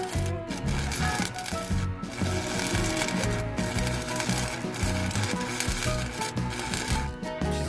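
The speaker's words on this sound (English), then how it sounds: "I'm just gonna weld that up." Welding a hydraulic handbrake mount on a BMW build, with dense crackling and sizzling that has short breaks every second or so, loud and close, with no voices.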